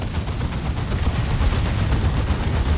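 Orbital strike shots in Warhammer 40,000: Dawn of War 2 make a continuous barrage of heavy, rumbling blasts and rapid impacts, loud and sustained with no talk.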